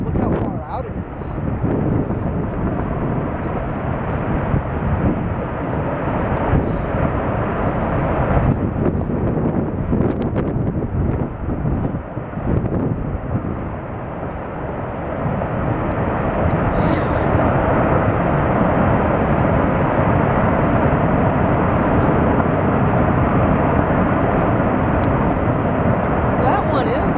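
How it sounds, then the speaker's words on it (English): A massive ice avalanche breaks off the Ghost Glacier on Mount Edith Cavell, sending a steady, loud, rumbling roar that holds for the whole stretch, mixed with wind buffeting and occasional voices of onlookers. "There's well, chunks rolling down the glacier."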